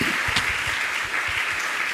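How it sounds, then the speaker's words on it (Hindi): An assembled audience at a question-and-answer gathering with a Jain monk claps continuously, a steady, fairly loud patter of many hands lasting a couple of seconds. "तालियां बजाई लगातार इनके लिए"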